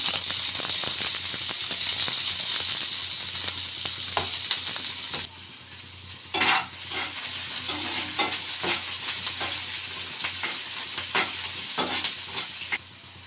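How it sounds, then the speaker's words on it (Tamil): Mustard and cumin crackle in hot oil, then onions and curry leaves drop in for a brinjal curry. A loud, hissing sizzle softens as they go in, with stirring clatter over the frying. "இது பொரிஞ்சு வந்தாச்சு வெங்காயம் கருவேப்பிலை சேர்த்துக்கலாம்"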